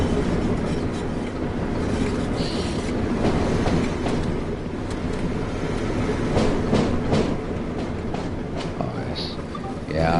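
Train rolling past in Train Sim World on the Tees Valley Line, a loud, steady broadband rumble with rhythmic clickety-clack of wheels over rail joints for the full ten seconds, close and continuous.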